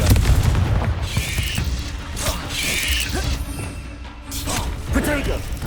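In the Hogwarts Legacy video game, the Confringo explosive spell is cast, setting off several booming blasts and crashes with mechanical clatter, while a voice speaks briefly between them.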